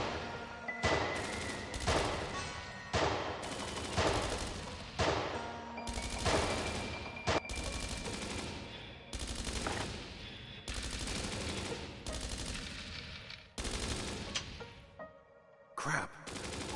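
Rapid bursts of gunfire from the VR shooter game Dreams of Another, repeated loud volleys separated by short gaps, with faint voices mixed underneath.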